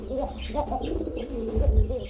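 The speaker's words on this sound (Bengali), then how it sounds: "মডানা কবুতর ঠিক আছে দেখতে পাচ্ছেন" Modena pigeons, male and female pairs kept in a loft for sale, give soft, close, repeated throaty coos in a continuous murmur.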